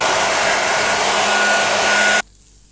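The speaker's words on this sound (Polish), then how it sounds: "tak zawinięte włosy dosuszę suszarką" A hair dryer runs at full power close by, drying hair that has been rolled up, giving a steady loud whooshing roar that cuts off abruptly near the end.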